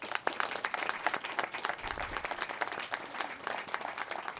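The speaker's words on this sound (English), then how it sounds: "Let's give them a round of applause." Audience applause for city council and mayoral candidates at a public forum, a smaller crowd clapping in quick uneven bursts with distinct individual claps, fairly faint and continuous throughout.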